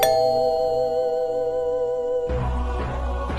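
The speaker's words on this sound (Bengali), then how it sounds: "রুমে কলিং বেল বেজে উঠল" A room's electric calling bell rings with a sustained, steady electronic tone for about two seconds, then cuts off, leaving a low background rumble.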